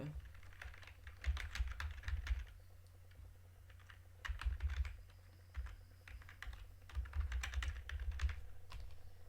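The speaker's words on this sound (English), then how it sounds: "In the name field, we need to type our database name." A database name typed on a computer keyboard, with bursts of rapid close key clicks separated by short pauses, over a steady low electrical hum.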